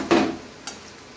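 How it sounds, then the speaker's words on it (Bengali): Potatoes frying in a pan, a short burst of sizzling and stirring followed by a faint clink, then a low steady fry underneath. "তো আলুটা অনেকটাই ভাজা ভাজা হয়ে গেছে"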